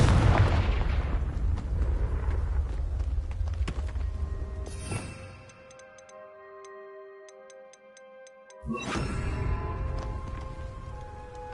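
Blasting-curse explosions from the video game Hogwarts Legacy, with a loud booming burst, a lull of ticking magical effects and ringing tones, then another heavy blast, all dense and close with no talk.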